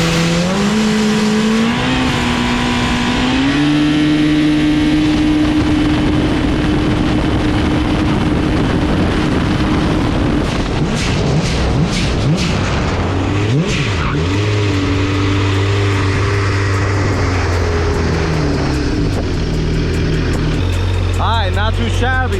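A Stage 3 Yamaha GP 1800 jet ski runs at full throttle with a loud, continuous engine roar that climbs in pitch as it accelerates, along with wind and water rush. A person speaks over the noise.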